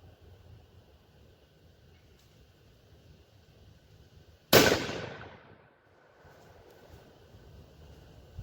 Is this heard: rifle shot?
yes